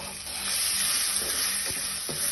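Coriander powder and garam masala sautéing in a hot pan give a steady, close sizzle and hiss throughout, with a few soft stirring scrapes toward the end.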